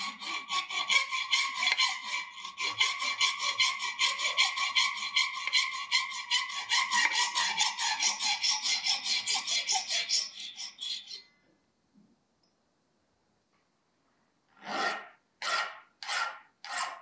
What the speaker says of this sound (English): Clean up the ends using a hand file and bevel the edges slightly.